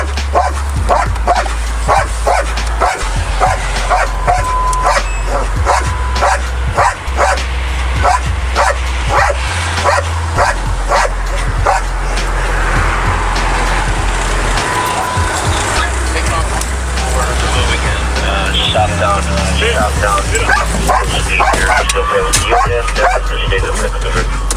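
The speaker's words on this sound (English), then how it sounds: "you may be bit by a police dog" A police dog barks repeatedly in rapid bursts during a roadside stop on California's I-805 near Santa Ana, heard over a loud engine or helicopter drone, with radio chatter and voices throughout.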